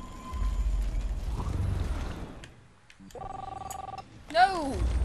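In the video game Life Is Strange, a short burst of electronic telephone ringing sits between creaking, ratcheting mechanical sounds and low rumbling, followed by a sweeping warped tone.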